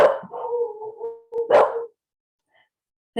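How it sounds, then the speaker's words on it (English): A dog barks and yips in a few close, loud bursts, the longest one coming partway through, followed by silence. "sorry, my dogs, I apologize"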